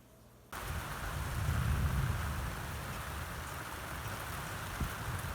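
A storm rolls in over a farm high tunnel, bringing steady, dense rain that swells to a loud wash after a sudden onset and then holds, with a faint low rumble of thunder underneath and no talking.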